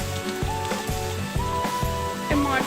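Tomatoes added to a hot pan for chicken macaroni sizzle steadily, with repeated stirring scrapes and knocks keeping a loose rhythm close by.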